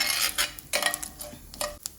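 Close crackling and popping of mustard seeds spluttering in hot oil for a brinjal dish, a few quick bursts over a short stretch.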